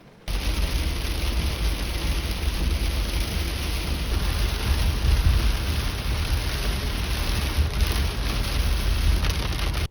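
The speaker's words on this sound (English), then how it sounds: "the rain stopped as soon as I got to Moise's house" Heavy rain pours down steadily outdoors, a dense, even hiss of falling water that holds for the whole stretch with no voices.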